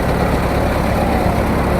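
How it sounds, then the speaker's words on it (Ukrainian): A heavy diesel engine of a 2.8-tonne excavator idles loudly and steadily nearby, with a deep, even rumble throughout. "Двигун працює рівно."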